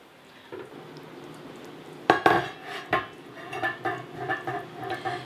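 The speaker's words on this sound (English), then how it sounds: "So I'm also going to cover this while it's simmering" A lid settles onto a pot of beef, brown rice and mushroom soup as it simmers: a soft, quiet bubbling, then a sudden metallic clatter followed by several lighter clinks and knocks of metal cookware close by.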